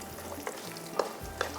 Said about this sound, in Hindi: इसको भी थोड़ा सा फ्राई करते हैं, गरम मसाले को प्याज के साथ